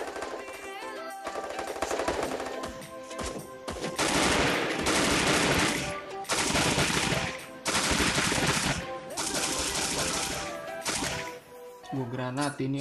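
Rapid automatic gunfire from the Free Fire battle royale video game, loud overlapping bursts and sustained volleys with brief gaps, over a steady music and effects bed.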